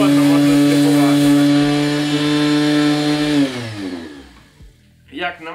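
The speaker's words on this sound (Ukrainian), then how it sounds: "можна просто спокійно включити шліфмашинку" A cordless electric sander runs with a steady high whine, then winds down and stops; a brief rustle or clatter follows.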